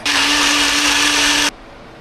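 A blender roars loudly for about a second and a half while making a drink at home, a steady high-pitched motor whine that cuts off abruptly.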